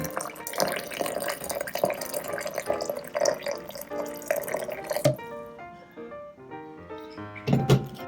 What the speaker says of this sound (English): Basically, you just pour the hot water in here like that.